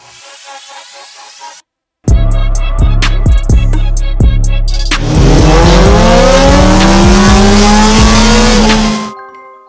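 A BMW M1000RR superbike on a dyno, serviced with RPM limits removed, first blipped in a few sharp rising revs, then held in a long loud wailing run up through the gears before cutting off.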